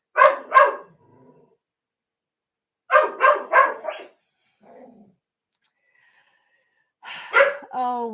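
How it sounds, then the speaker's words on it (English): A pet dog lets out big, loud barks nearby in two quick bursts, then a tighter cluster of three, with soft breathy sounds between and a whiny, rising bark at the end. "My doggy interrupted with some big barks there."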